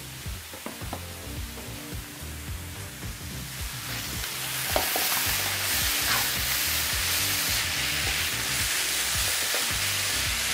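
Mushrooms and sweet corn fry in a hot pan with a steady sizzle, stirred with scattered scraping knocks early on, the hiss swelling louder and more constant halfway through.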